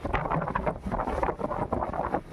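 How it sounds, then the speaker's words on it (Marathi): Strong outdoor wind buffets the microphone in loud, uneven gusts that rumble and roar continuously, with no other clear sounds. "लय वारा आहे रे तर कंट्रोल होणार नाही"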